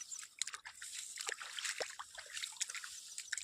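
Irrigation water flows into a wheat field, a faint, steady trickle and slosh with small splashy bursts throughout and no voices.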